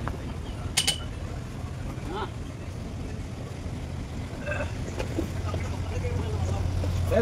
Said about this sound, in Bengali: দেখো, এখন আমাদের বোট ছেড়ে দিয়েছে।